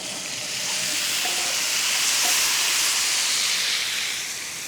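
Chicken fries in a pan with cumin powder, a loud, steady sizzle and hiss that swells slightly in the middle and stays close, with no talking.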